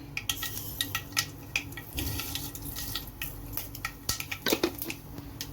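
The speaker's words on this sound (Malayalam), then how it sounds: "അപ്പം നമ്മുടെ കടുക് പൊട്ടി കഴിഞ്ഞിട്ടുണ്ട്" Mustard seeds splutter in hot oil in a cooking pan, giving close, scattered crackling pops and sharp ticks over a low, steady background with no talking.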